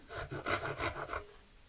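A hand saw cuts small grooves a couple of millimetres deep into wood, making about six quick, close rasping strokes in a steady back-and-forth rhythm before fading out.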